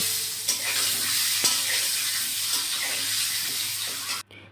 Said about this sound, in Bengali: তাতে ডিমগুলোকে দিয়ে লাল লাল করে ভেজে নেব